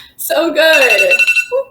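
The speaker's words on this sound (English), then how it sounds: "that's my alarm clock, sorry." An alarm clock goes off mid-call at an online university entrepreneurship challenge, a bright tonal ring of about a second, with a voice speaking briefly around it.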